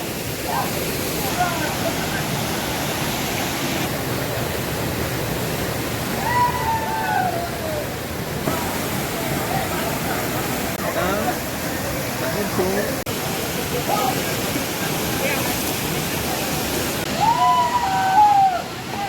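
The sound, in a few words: Canacona waterfall in Goa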